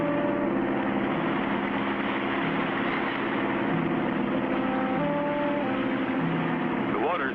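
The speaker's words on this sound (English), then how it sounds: "We'll keep the engine running to force us against the current and hold us from going over the falls." A boat engine runs steadily to hold the craft against a river current just above a waterfall, a continuous droning hum with musical tones layered over it.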